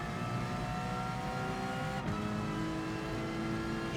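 Race car engines in the Gran Turismo Sport video game drone steadily at high revs, a continuous loud whine with a brief shift dip midway, no talking.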